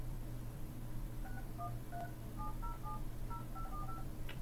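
Telephone keypad DTMF tones dial a call forwarding code, a string of short clean beeps in uneven rhythm, faint over a steady background hum.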